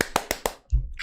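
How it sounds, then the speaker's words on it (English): Four sharp hand claps land in a steady rhythm, close and loud, followed by a brief low thump and some murmured voice. "Everybody, clap your hands."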